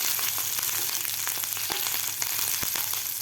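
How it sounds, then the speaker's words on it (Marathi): Chopped green chillies, garlic and curry leaves fry in hot oil with a dense, continuous sizzle and sharp crackling pops, close and loud with no talking. "चॉप करून घेतलेली हिरवी मिरची, कढीपत्ता, व्यवस्थित आपल्याला हे फ्राय करून घ्यायचं आहे."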